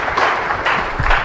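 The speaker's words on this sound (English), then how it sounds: "Once again, a round of applause." Audience applause at an award ceremony, a brief burst of steady clapping from a hall full of people, moderately loud and continuous for just over a second.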